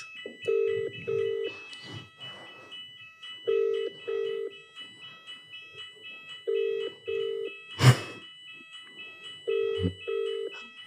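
A phone rings repeatedly during a prank call, paired electronic ring tones sounding in a steady rhythm with pauses between, joined by brief bursts of noise and a sharp click partway through, while a faint voice murmurs under it.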